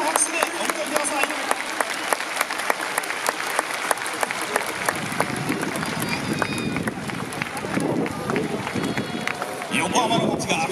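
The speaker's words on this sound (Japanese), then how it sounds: "盛大な拍手でお迎えください。" A large stadium crowd at Yokohama Stadium claps in a roaring wash for a ceremonial first pitch at a baseball game, with a rhythmic beat of hand claps running through and voices mixed in the din.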